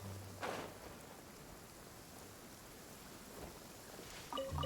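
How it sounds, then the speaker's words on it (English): Steady rain falls in a video game, a soft continuous hiss filling the short stretch with a few brief louder accents at the start and end. "It's raining."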